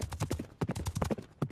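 Cartoon horse hooves gallop in a quick, loud clip-clop rhythm of close, sharp beats with brief pauses between bursts, and a faint whinny-like sound may blend in.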